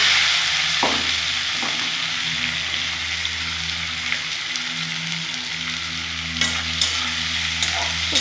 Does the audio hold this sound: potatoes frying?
yes